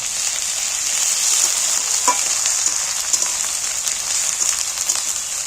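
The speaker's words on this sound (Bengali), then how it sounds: "এবারে আদা রসুন একসাথে বাটা তুলে দিন দিয়ে ফের আমি নাড়াচাড়া করে একটু ভেজে নিই" Ginger-garlic paste fries in a pan with bitter gourd for a curry, giving a steady bright sizzle broken by soft clicks and scrapes as it is stirred, with no voices.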